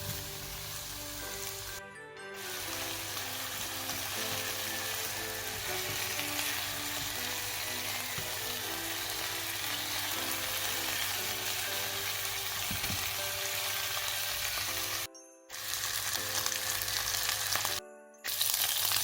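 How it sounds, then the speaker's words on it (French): Rabbit pieces, lardons and shallots sauté together in a pan over medium heat, giving a steady, soft sizzle and crackle. It runs throughout under quiet background music, broken by brief silent gaps. "je laisse sauter le tout ensemble"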